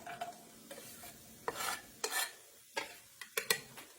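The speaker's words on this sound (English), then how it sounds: "So I'm going to go ahead and toss those onions in" Chopped onions drop into melted butter in a pan for chicken fried rice, giving a quiet, soft sizzle broken by several sharp scraping and stirring clicks. There is no talking.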